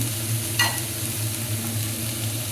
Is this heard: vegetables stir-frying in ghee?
yes